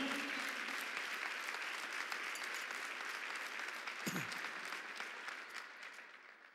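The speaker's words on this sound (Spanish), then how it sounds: "¿Cuánto le da un aplauso a Dios" Applause from a church congregation during a sermon, a full, even wash of many hands clapping, fairly distant and soft, with a brief tonal sound partway through, slowly thinning toward the end.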